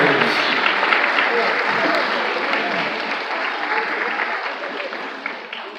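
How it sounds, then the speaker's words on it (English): Sustained applause from a large audience honoring award winners at a teachers' union gathering in a hotel ballroom, steady and loud, tapering slightly toward the end. "Another round of applause for all of our small Heiser"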